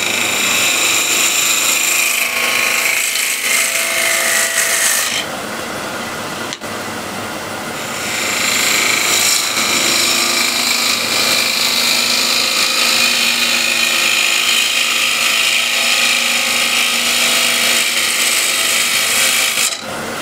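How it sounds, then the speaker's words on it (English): Bowl gouge cutting a wooden bowl on a spinning lathe: a loud, continuous hissing, rasping shear that drops away briefly, then resumes and keeps going steadily, close up, with no talking. "this is bowl gouge"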